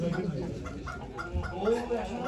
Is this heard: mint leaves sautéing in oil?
no